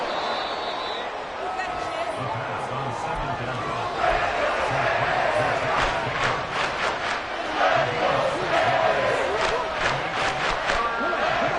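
Stadium crowd in a Madden football video game, Miami against Las Vegas, tied late in the fourth quarter, a loud continuous roar that swells after a few seconds, with bursts of cheering and sharp hits over it.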